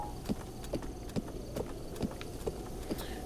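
A horse in the game Zelda: Breath of the Wild walks along, its hooves clip-clopping in a steady, even rhythm, close and moderately loud with no talk.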